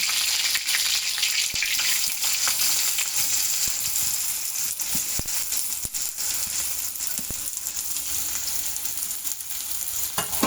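Chopped onions with green chillies and cumin sizzle steadily in a hot pan for pav bhaji, a continuous loud frying hiss with occasional stirring scrapes and taps, without any talking.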